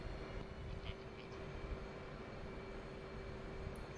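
An F/A-18 Hornet jet engine in the DCS World flight simulator gives a steady, dense, moderately loud roar with a faint whine running through it, holding an even level throughout.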